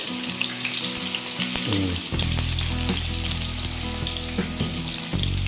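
Garlic and onion hit hot oil in a pan for sautéed bottle gourd, bursting into a loud, close sizzle with clatters of stirring and low hum underneath.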